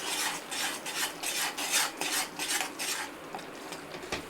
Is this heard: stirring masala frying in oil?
yes